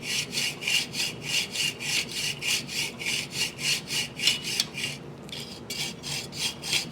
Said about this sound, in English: you've got to trim off 3 fins